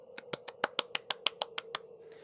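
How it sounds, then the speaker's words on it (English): A single person gives a quiet, close round of applause for Cassie during a Halloween ASMR storytelling session: about eleven crisp, evenly spaced claps over a faint steady hum, then silence. "Round of applause for her."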